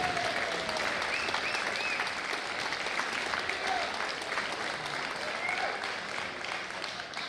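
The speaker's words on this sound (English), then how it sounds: "Big round of applause, Johnny McAvoy and HBO Griffin." Steady, sustained applause from an audience at a darts festival finals, a dense even clatter of many hands filling the hall with some cheering voices mixed in.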